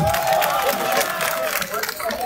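Street demonstration crowd clapping and cheering, a steady wash of applause with voices shouting throughout.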